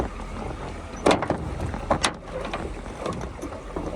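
A boat being rowed through water, with two sharp splashing oar strokes close by over a steady rush of water and light wind noise.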